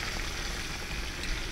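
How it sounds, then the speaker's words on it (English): Dirty rice frying in a pan gives a steady, even sizzle with a soft crackling hiss throughout, close by and alone without any voices. "I have some dirty rice cooking"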